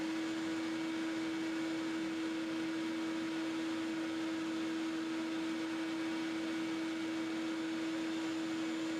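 Shop vac suction spinning a Sy-Klone precleaner, a steady whirring drone with a constant tonal hum, even and unbroken for the whole stretch at low level, with no voices.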